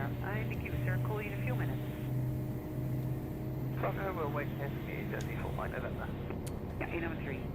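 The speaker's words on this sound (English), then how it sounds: "Very nice engine sounds." Airbus A319 engines in the X-Plane 12 flight simulator hum as a steady, fairly loud tone, with someone talking over them throughout.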